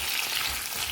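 Potatoes and cabbage are stirred in a frying pan, with a continuous close sizzle and faint scraping over one short second.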